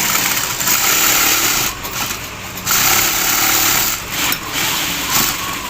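Industrial sewing machines stitch shoes in a factory, a loud high-pitched whirring buzz running in long bursts with brief pauses between stitching runs, with other factory noise under it.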